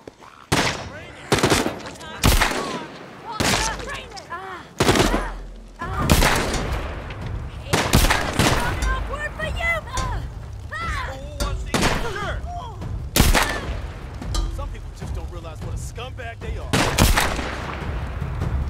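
Rapid bursts of gunfire in The Walking Dead: Saints & Sinners crack repeatedly, loud and sharp, with brief pauses between volleys and some faint voices underneath.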